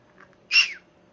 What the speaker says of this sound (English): What a sneezy bird.